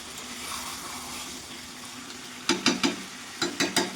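Mutton with tomato and chilli frying in a pan for curry, a soft sizzle at first, then a run of five sharp scraping stirs near the end.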